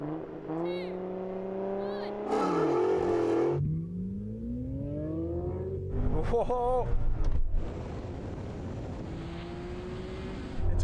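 A BMW E39 M5 and a Nissan Skyline R34 GT-R drag race, engines revving and rising in pitch through rapid gear shifts, with overlapping whines and roars as both accelerate hard.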